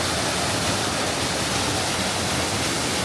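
A steady, dense roar of falling water at Basin Cascades in New Hampshire, continuous and even throughout, with no voices or other sounds rising above the rushing wash.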